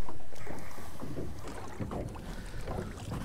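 Small fishing boat moving across a lake toward an island, wind buffeting the microphone and water sloshing and splashing against the hull in a close, choppy wash over a few seconds.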